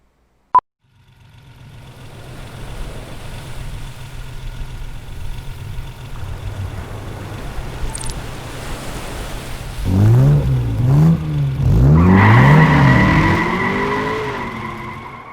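A Ferrari idles with a steady low rumble, then its engine revs hard in rising and falling sweeps while its tires screech in a long, loud skid.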